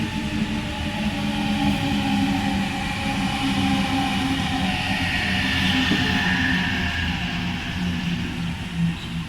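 Train passing platform 3 at Epping station, heard as a steady, loud rumble with a droning wheel-and-rail hum and a faint higher screech throughout, with no speech.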